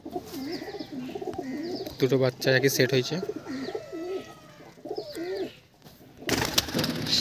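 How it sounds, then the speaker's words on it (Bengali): Pigeons coo in repeated soft, throaty warbles close by, overlapping with someone talking, followed by a burst of fluttering wings near the end. "তো দেখো দাদা পায়রাগুলো এখনই উড়িয়ে দিল"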